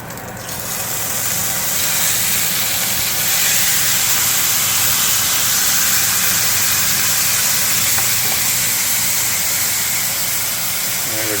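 A large wagyu beef steak sears in a hot pan, giving off a loud, steady sizzle and hiss that starts abruptly and holds constant throughout, close and unbroken.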